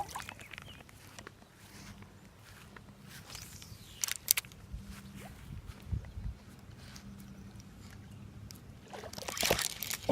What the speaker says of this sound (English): I heard a big splash